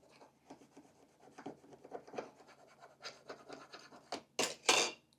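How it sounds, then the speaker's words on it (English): A Cricut scraper tool rubs and scrapes over vinyl transfer tape to press it onto a surface, a run of short, close, dry scratching strokes that grow louder and quicker toward the end. "then scrape again to get it to adhere to the surface you want it to stick to"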